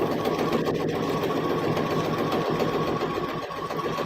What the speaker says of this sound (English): I'm going to start quilting. So I'm just going to do like little loopy loops.